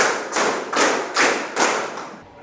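Five loud, even claps sound in a steady rhythm as a classroom group claps together, with no voices.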